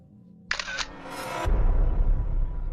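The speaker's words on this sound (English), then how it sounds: "The sound of a digital camera shutter, accompanied with a blindingly bright flash coming from an adjacent room" A digital camera shutter fires with a quick click and mechanical whir, followed by a swelling low rumble that carries on beneath it; no talk.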